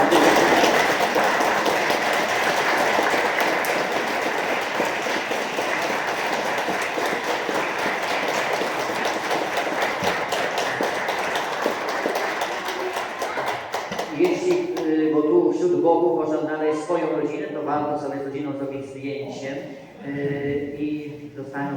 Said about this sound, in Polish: Jeszcze raz wielkie brawa dla nas